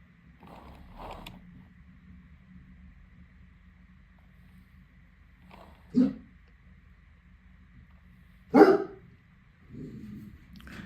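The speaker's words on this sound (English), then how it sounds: "somebody's come near my front door, so the dog thinks he's going to help us and let us know" A dog indoors gives a few scattered barks at someone near the front door, with a faint steady hum behind them.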